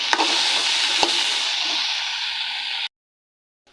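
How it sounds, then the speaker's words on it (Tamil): Okra sautés in oil with salt in a kadai, a close steady hiss and sizzle with a couple of sharp spatula clicks, fading slightly before cutting off into silence. "வெண்டைக்காயை இந்த எண்ணெயில் போட்டு நல்லா வதக்கி எடுக்கணும்"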